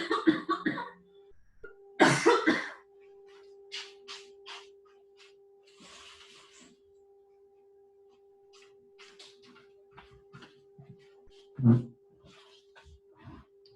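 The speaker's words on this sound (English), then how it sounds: "I have to cough again." A couple of sharp coughs break a quiet room, one early and one later, with a faint steady hum and small noises in between.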